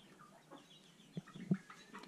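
Chickens kept in a pole-barn coop on a small agricultural plot cluck quietly, a few soft scattered clucks rising briefly over a faint, still background.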